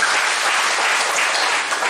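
A congregation at a revival church service claps for God, dense, continuous applause filling the room from start to end.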